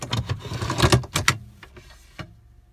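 A small fold-out table in a Scania S730 truck cab, with a run of clicks, slides and clatters as it is pulled out, then a couple of softer knocks and one last click before quiet.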